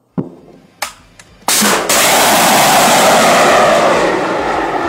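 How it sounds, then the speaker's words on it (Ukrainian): A shell hitting a tank in wartime, with sharp blast cracks followed by a sudden loud sustained roar of the exploding vehicle, heard close and without talk. "Прямое попадание, танк разлетелся."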